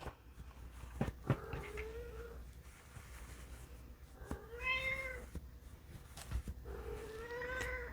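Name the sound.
cat whining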